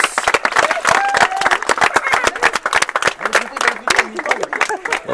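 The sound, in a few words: people applauding at a baptism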